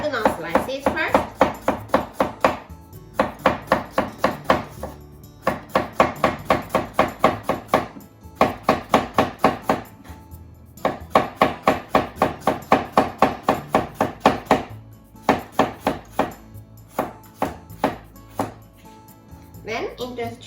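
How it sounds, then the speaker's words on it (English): A knife cuts a cucumber into thin diagonal slices on a cutting board, producing steady runs of quick, close chopping taps broken by short pauses. "So make thin diagonal slices first."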